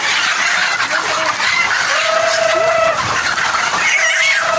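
Many egg-laying hens clucking and squawking continuously in a noisy coop of small cages, close and loud, with short rising calls over a dense chattering background.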